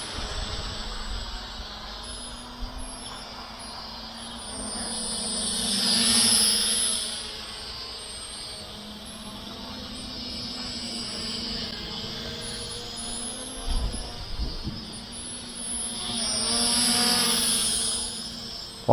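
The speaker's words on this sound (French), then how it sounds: "un super petit drone pour débuter" A small LOOLINN X23W toy drone flies with a thin, high-pitched propeller whine that holds steady throughout. The whine swells louder twice as the drone passes closer.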